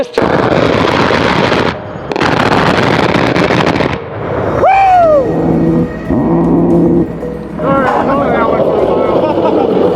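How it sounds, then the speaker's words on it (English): A long roaring burst of rapid A-10 aircraft cannon fire rolls out from the sky, then echoes back from a distance, with people talking and shouting over it, in Afghanistan. "You hear it first when it fires, and then you hear it echo from the gun in the sky."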